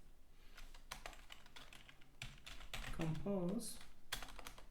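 Computer keyboard typing at close range, a run of quick irregular key clicks with brief pauses, while someone speaks briefly over it.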